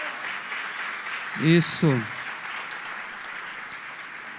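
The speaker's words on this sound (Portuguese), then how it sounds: "Que a igreja desse uma salva de palmas a Jesus." A church congregation applauds during a Sunday celebration service, a broad, continuous wash of clapping from many people, with a short spoken word and a brief vocal exclamation rising over it partway through.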